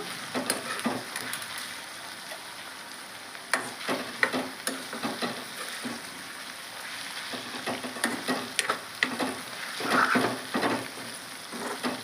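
Green chillies frying in a pan for amaranth leaf chutney give a steady close sizzle, with repeated scraping stirs across the pan and no voices.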